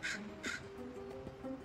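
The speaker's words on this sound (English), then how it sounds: "just the tentative scold of one young crow." One young crow gives a tentative scolding call, a few short harsh caws spaced irregularly over a couple of seconds, fairly close and alone against quiet outdoor background.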